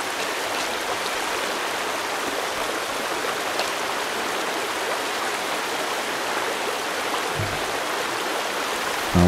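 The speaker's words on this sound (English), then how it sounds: "Going for a swim over the waterfall." A waterfall and stream in the Sons of the Forest video game pour steadily, a dense, even rush of water that fills the scene from start to finish, with no talk over it.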